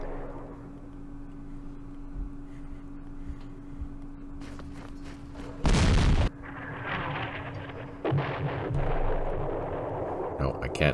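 Artillery fire in a Middle East war video game: heavy booms and a loud blast mid-clip over a steady rumbling battle backdrop, with further crackling impacts after it.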